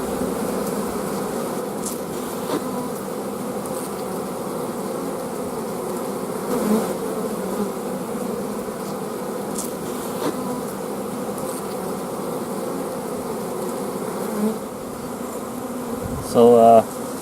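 Honey bees hum steadily and densely in an opened hive during an early-spring inspection after overwintering, a close, continuous buzz with a few louder passes and a brief knock near the end.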